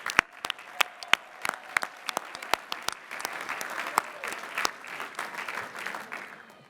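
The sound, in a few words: applause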